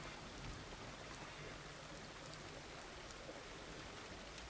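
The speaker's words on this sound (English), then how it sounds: "I'm going to try to sleep this rain away" Steady video game rain falls in a continuous, even hiss of droplets, with no other sounds and no voices.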